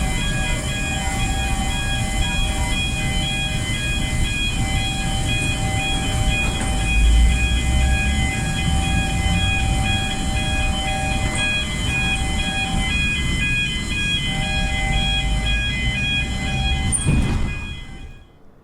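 A loud, steady mechanical rumble with sustained whining tones, much like a train, from an airport jetway moving at Bordeaux Airport in Microsoft Flight Simulator 2020, running continuously before cutting off near the end.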